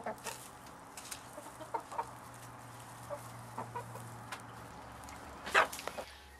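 Chickens on an allotment cluck in short, scattered calls over steady outdoor background noise, with one louder call near the end and a faint low hum running through.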